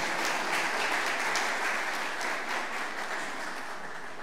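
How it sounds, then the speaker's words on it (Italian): A crowd at a university engineering department's tenth-anniversary celebration applauds an award winner with dense, even clapping that holds steady for several seconds and fades slightly near the end. "Un applauso per Valentina, mentre ci raggiunge."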